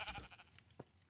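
Sheep in the video game Minecraft bleat in two short, quiet calls, one at the start and another brief one shortly after, with no talking over them.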